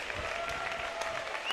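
Crowd cheering and applauding at a high school boys basketball game between TCA and Harding Academy, a steady dense roar of clapping filling the gym with no clear talk over it.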